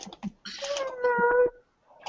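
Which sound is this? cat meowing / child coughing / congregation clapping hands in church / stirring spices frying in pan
cat meowing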